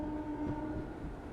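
Train 13176, the Kanchanjunga Express passenger train, runs through heavy rain with a steady, close rumble of wheels and carriages and a faint sustained tone riding over it, and no voices.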